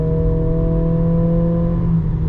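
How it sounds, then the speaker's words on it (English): A 2025 Acura ADX A Spec Advance engine hums loudly and steadily in sport mode with augmented engine sound, its pitch holding level before dipping slightly near the end, heard from inside the cabin. "the augmented sound of the engine does come through when you put it into sport mode"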